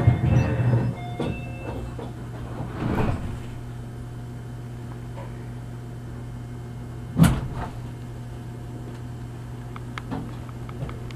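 Sliding doors of a Meitetsu express train shut at Kowa station with two dull thumps over the steady low hum of the idling train.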